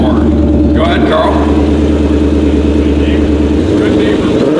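A 2020 Shelby GT500 Mustang idles with a deep, steady exhaust rumble, close and loud, while voices talk over it and the engine note shifts near the end.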